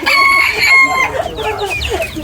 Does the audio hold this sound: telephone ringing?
no